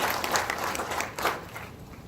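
Applause at a Greystone public meeting, a dense wash of hand clapping from a gathered audience, moderately loud and steady for about two seconds, with no voices above it.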